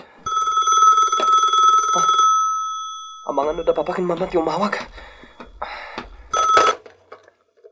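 A cellphone rings with a loud, steady bell-like tone, then people speak over the ringing, which continues in short bursts.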